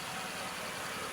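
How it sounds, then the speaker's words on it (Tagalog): A rebuilt Toyota Vios engine runs with a faint, steady, even hum and no change in pace. "Ayan na yung makina. Pakinggan nyo."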